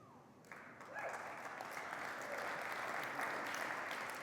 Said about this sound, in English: I don't even know why you're clapping about that